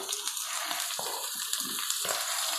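Paneer pieces frying in a pan with a little salt and turmeric for gongura paneer give a steady, close hiss of sizzling oil, with a few soft bursts rising through it and no talking.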